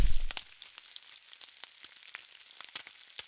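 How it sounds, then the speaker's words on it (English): Onions and bell peppers sauté in a pan for a Louisiana dish, a soft, close crackling sizzle with scattered pops and no talking. "We're gonna cook the onions and bell peppers down, a little seasoning, of course."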